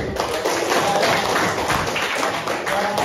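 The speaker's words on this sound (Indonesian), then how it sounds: "Oke, beri tepuk tangan" A junior high school class claps hands in a classroom, a dense, fairly loud patter of many hands lasting a few seconds with some voices underneath.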